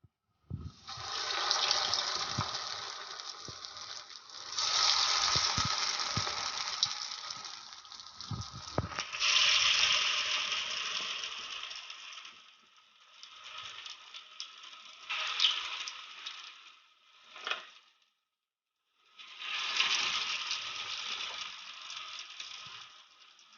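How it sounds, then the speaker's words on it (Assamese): Young taro leaves coated in a chana dal mixture fry in hot oil, giving a loud, hissing sizzle in several long bursts separated by quieter gaps, heard alone without talk. "এতিয়া তেল গৰম হৈ গ'ল এতিয়া এইখিনি ফ্ৰাই কৰিম"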